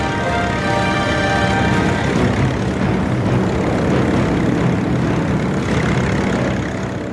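Loud, continuous propeller engine roar from World War II carrier-borne aircraft in archival film, a dense droning rumble with no speech over it.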